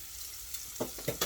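Pork backstrap frying in oil in a pan, a soft steady sizzle close by with a few short bursts of louder crackling and spattering toward the end.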